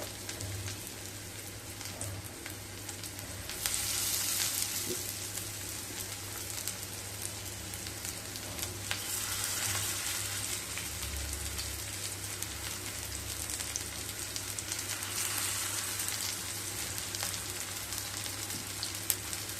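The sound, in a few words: vegetable prawn pakoras deep-frying in hot oil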